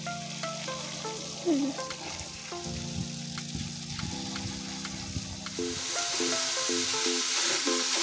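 Greens and fish fry together in a home kitchen pan with a continuous soft sizzle. A steady tonal hum runs underneath, and the frying swells louder in the last few seconds.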